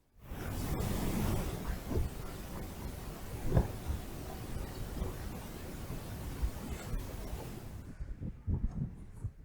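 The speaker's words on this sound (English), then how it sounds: "Yeah, that wind's picking up now" Wind gusting across a hilltop wild camp near Windy Gyle on the Northumberland–Scottish border: steady loud rushing buffeting the microphone, with a few thumps, easing off near the end.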